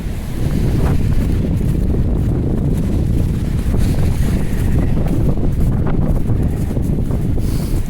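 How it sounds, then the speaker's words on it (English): Strong wind buffets the microphone on a snowy day in Halifax, a loud, continuous low roar with gusty surges, no other sounds standing out. "It's really got windy."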